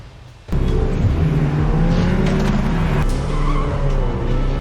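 A car bursts into sound nearby with a loud engine roar and squealing tires, holding steady as it moves past.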